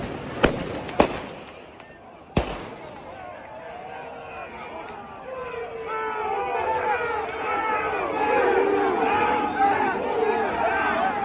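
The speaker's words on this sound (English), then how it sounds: "here we have protesters firing fireworks at police." Protesters fire fireworks at police: a few sharp, loud bangs at the start, then a rising crowd hubbub of shouting and chatter that builds and fills the rest of the scene.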